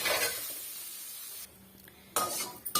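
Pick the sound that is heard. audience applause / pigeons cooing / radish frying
radish frying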